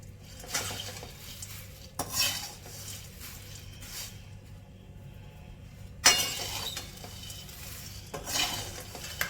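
A spoon scrapes and stirs puffed rice (mamra) tempering in a pan with oil, raw peanuts, curry leaves, salt and Kashmiri red chilli powder. Close, dry rustling bursts come every couple of seconds over a low background hum.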